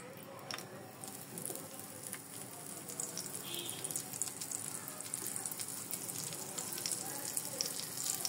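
Coated eggplant slices fry in hot oil on a medium flame, giving a steady crackling sizzle with fine irregular pops, close and fairly quiet throughout.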